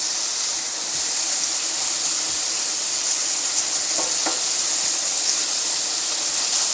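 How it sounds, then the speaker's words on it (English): Bacon pieces in a hot, oiled pan give a steady, loud broadband sizzle and hiss that stays even throughout, with a couple of brief light clicks from the pan partway through. "So we put the bacon pieces into the hot pan."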